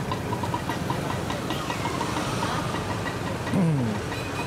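A motorcycle engine idles in shallow floodwater amid Cavite traffic, a constant low, close rumble running throughout with a brief louder swell near the end.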